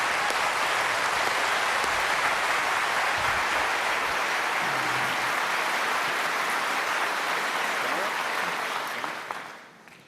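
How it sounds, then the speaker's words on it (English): A large debate-hall audience applauds as Senators Obama and McCain are welcomed to the first 2008 presidential debate. The clapping is dense and steady, then fades out just before the end. "No cheers, no applause, no noise of any kind, except right now as we welcome Senators Obama and McCain."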